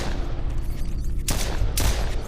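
Two loud, close gunshots from a firearm in the horror game The Void, roughly half a second apart, cracking over a dense, noisy rumbling background.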